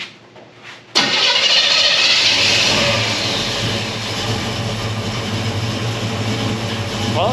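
Chevrolet Chevelle engine with a Holley carburetor cranking briefly, then firing loudly and settling into a steady, rumbling idle that continues close and alone.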